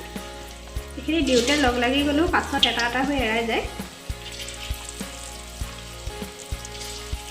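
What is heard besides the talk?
potato pakoras frying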